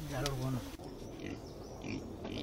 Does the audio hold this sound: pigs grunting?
yes